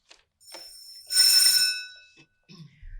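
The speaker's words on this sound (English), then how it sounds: "Let's try the buzzer." A single electronic buzzer sounds for about a second, a bright, ringing tone, with brief clicks and faint voices before and after, during a timing test at a parish council political forum.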